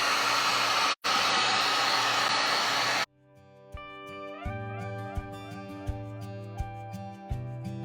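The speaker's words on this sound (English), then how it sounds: "let's dry this a little bit with our heat gun." A heat gun dries paint on a vinyl bench, blowing a loud, steady roaring hiss for about three seconds with one brief cutout, then shutting off as background music takes over.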